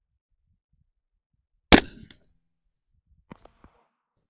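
A single 300 Blackout rifle shot at a 700-yard target at dusk, one loud sharp crack that decays quickly, followed by a few faint clicks.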